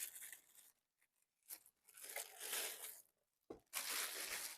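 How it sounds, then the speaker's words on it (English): Plastic packaging is peeled and torn off a VT007 vibration plate exercise machine during unboxing, giving close crinkling and tearing bursts separated by brief pauses, with no voice. "Now for the plastic piece, we'll take that off."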